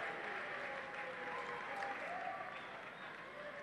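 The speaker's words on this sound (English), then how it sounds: "And the crowd gets pretty excited after that one." At a high school basketball game, the crowd cheers and applauds after a rebound and a score. The steady, faint roar sounds distant and carries on without a break.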